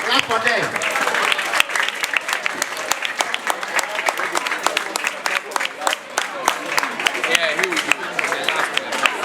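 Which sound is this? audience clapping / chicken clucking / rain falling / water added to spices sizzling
audience clapping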